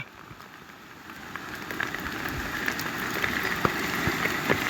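Rain falls steadily at an outdoor village fishing spot where cast nets are being thrown, a dense hiss of drops with scattered sharper patters that grows louder and heavier over a few seconds, with no one talking.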